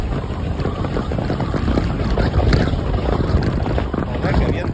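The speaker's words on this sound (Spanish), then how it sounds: "Estoy bajando con viento de cara, ¿eh?" Strong headwind roaring steadily over the microphone as a cyclist descends the Tudons mountain pass, a dense broadband rush that stays loud and unbroken throughout.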